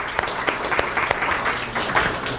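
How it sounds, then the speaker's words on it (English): Audience applause at a live main event, a dense wash of clapping from a crowd with a few sharper individual claps standing out, steady and moderately loud throughout. "Let's give a round of applause for that."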